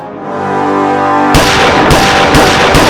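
In a TV crime drama, a rising tone gives way to a sudden loud burst of gunfire, followed by several more sharp shots at uneven intervals.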